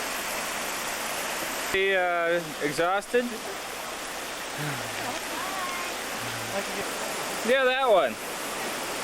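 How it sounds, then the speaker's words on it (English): A small stream-fed waterfall beside a Conway granite boulder in the New Hampshire woods gives a steady, moderate broadband rush throughout, with people talking briefly over it. "Some neat little waterfall."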